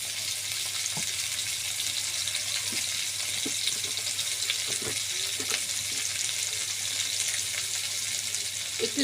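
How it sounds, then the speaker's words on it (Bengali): Loti (taro stolons) with turmeric fry slowly in a pan over low heat, a steady soft sizzle with occasional light clicks and stirring taps. "লতিটা আস্তে আস্তে জাল দিয়ে আমি সুন্দর করে ভাজা ভাজা করবো"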